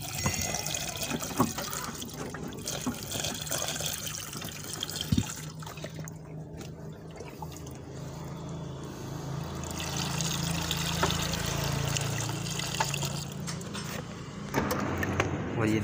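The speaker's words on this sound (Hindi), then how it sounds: "और इसमें नॉर्मल पानी डाल सकते हैं," Plain water pours and trickles steadily into the wiper fluid reservoir of a Maruti Swift Dzire petrol car during servicing, a moderate liquid splashing close by.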